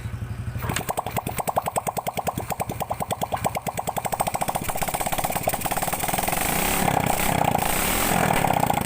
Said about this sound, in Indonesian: di sini mesin sudah hidup